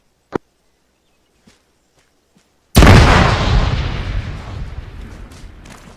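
A video game explosion after a warning to take cover, a few faint clicks and then a sudden loud close boom that roars and slowly fades over several seconds.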